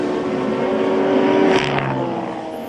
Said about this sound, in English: the screaming Audi R8 right behind him at the line